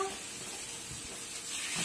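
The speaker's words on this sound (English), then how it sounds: "We're going to add our chicken right on our grill pan. Here's the sizzle." A steady, soft sizzle hisses continuously as chicken sears on a hot grill pan.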